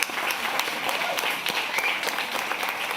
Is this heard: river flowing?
no